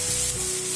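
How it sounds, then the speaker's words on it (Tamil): Dried red chillies sizzle briefly in hot oil in a pan while cooking Schezwan noodles, a short steady hiss of frying. "காஞ்ச மிளகாய் தாளிக்கிறதுக்கு மட்டும், அவ்வளோதான்."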